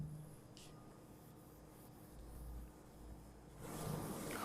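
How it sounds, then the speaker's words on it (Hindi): Pen writing on paper while working a complex numbers exercise, a faint steady scratching and rubbing that continues for several seconds with no talk over it. "यहाँ पे लिखता हूँ मैं"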